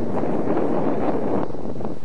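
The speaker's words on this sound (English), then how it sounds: "Very windy day here." Strong wind blowing outdoors on a very windy day, a steady, loud roaring buffet across the microphone with no pauses or other distinct sounds.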